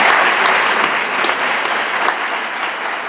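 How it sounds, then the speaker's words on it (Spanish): Sustained applause from a conference audience at a social media event in Spain, a dense, even wash of clapping that fills the whole stretch at steady loudness with no voices over it. "ha aplaudido una persona, por favor, acompañemos a esa persona"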